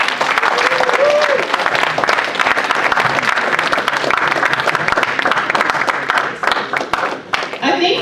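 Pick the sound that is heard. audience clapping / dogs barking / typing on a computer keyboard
audience clapping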